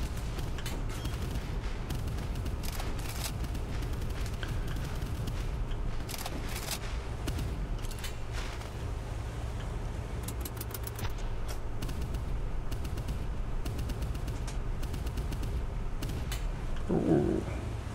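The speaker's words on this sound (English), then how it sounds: "Large shells coming in from the supporting ships." Large shells from supporting ships explode in the naval combat game Boat Crew, a steady low rumble with scattered sharp bursts and distant booms rolling throughout.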